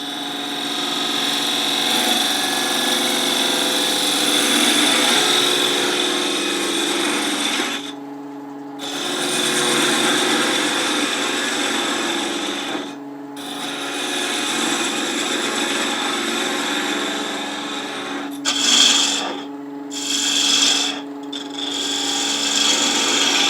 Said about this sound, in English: I'm going to finish hollowing it out with a 3/8 inch detail tool, which I can get in there a ways